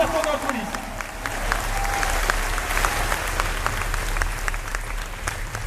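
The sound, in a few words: studio audience applauding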